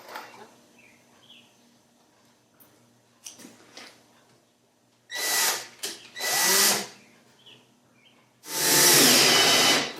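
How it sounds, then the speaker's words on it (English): A power drill whirs in three short bursts, the last longest, close by, drilling a pilot hole with a 1/8 inch bit, with quiet pauses and faint handling sounds between. "I run a pilot hole with a 1/8 inch drill bit"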